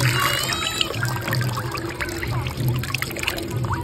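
Water runs and trickles steadily at a temple while bel leaves are washed, producing a continuous splashing flow close by. A low hum sits beneath it.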